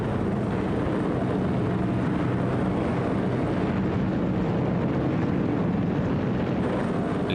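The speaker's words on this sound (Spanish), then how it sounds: "Más de 1000 aviones despegaron hacia la ciudad alemana de Colonia." Aircraft engines in a constant, loud droning roar, as from a large number of heavy bombers massed together, steady without break from start to end.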